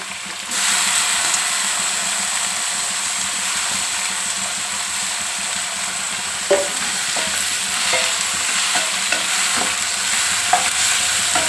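Bitter gourd pieces with chopped onion frying in a pan, a loud, steady hiss of hot oil starting abruptly and continuing throughout, with a few light stirring knocks later on; no voices.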